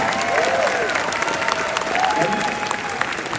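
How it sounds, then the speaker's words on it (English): Audience applause fills a convention closing ceremony, a dense, loud, steady clatter of many hands clapping from a large crowd, with a faint voice partly audible over it. "Yes, give a round of applause."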